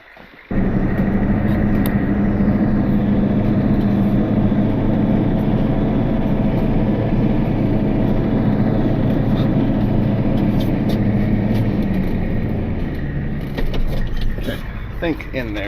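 A vehicle engine fired up and left running to warm up, starting abruptly then holding a steady, loud, close idle rumble for the remainder, with a slight shift near the end.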